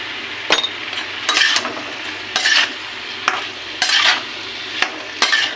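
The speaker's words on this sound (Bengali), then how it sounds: "এটাকে ভালো করে মিশিয়ে নিই।" Watermelon rind curry being stirred in a pan, with repeated bursts of scraping and clinking from the spoon against the metal every second or so, over a faint steady sizzle, close and fairly loud, no talk.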